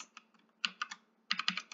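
Typing on a computer keyboard, a few quick close key clicks in two short bursts separated by a pause, quiet and crisp with no speech.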